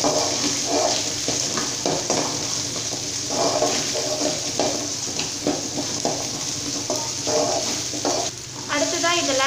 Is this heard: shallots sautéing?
yes